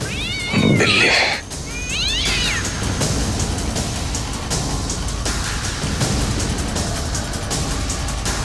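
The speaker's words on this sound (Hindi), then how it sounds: "बिल्ली।" Two drawn-out cat meows sound close and loud in the first few seconds, then give way to a steady hissing background like rain that continues to the end.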